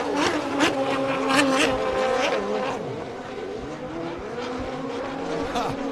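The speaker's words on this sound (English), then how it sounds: "Awesome racing on the Cumberland River, Kurt." Racing powerboats on the Cumberland River in Nashville during the LIQUI-MOLY Invitational: several high-revving engines whine and rise and fall in pitch as boats pass, loud and continuous, mixed with crowd ambience.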